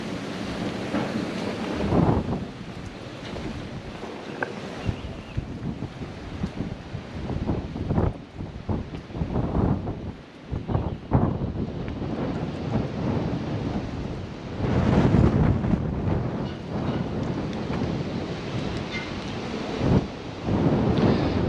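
Strong cold wind with rain, a continuous heavy roar buffeting the microphone with gusts and rumbling low thumps, loud and close throughout.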